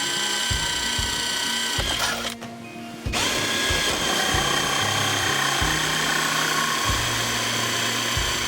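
A power drill bores holes through a Mercedes front bumper for parking sensors, its whine starting and stopping in repeated short bursts with a brief pause in the middle, loud and close.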